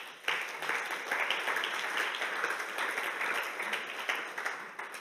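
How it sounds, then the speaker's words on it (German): A church congregation claps together in sustained, even applause, moderately quiet and somewhat distant, with no voices over it. "Geben wir all denen noch immer den Podcast zu schauen, einen recht herzlichen Applaus"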